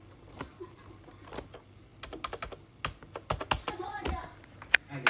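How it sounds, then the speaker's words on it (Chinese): Someone types on a mechanical keyboard with grey-type switches, giving sharp close clicks in irregular bursts that grow denser, with quiet gaps between. "这也是机械键盘。"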